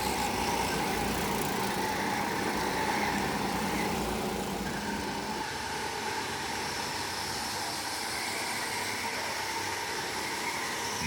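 Indoor go-karts race side by side around a track inside a building, a constant buzzing engine drone echoing from several karts at moderate distance, steady and unbroken with no voices.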